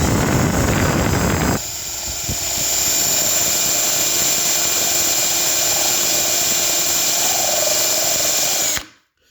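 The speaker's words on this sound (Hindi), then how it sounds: "आप ये देख रहे हैं इसने ड्रिलिंग शुरू कर दी है" A power drill bores a hole through a sheet of glass with a loud, steady whine that shifts pitch early on and holds until it cuts off abruptly.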